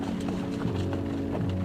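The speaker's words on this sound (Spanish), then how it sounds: "Pizarro realmente hizo que la caballería cargara para defenderse." Spanish cavalry horses charge against approaching Inca warriors near Lima, hooves clip-clopping in a steady, continuous galloping rhythm that stays loud and close throughout, with no voices over it.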